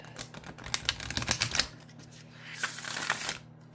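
A new oracle card deck is riffle shuffled up close, a rapid fluttering burst of cards, followed by a softer second riffle and bridge.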